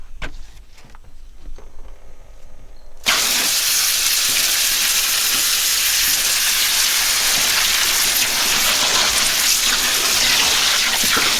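Water pours and splashes loudly and steadily while a tie-dyed black rainbow spiral tee is rinsed out, a dense rain-like hiss that starts abruptly after a few quiet seconds and continues unbroken.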